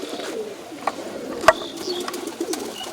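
Pigeons coo softly amid a busy background murmur, with a sharp click or knock cutting in briefly midway.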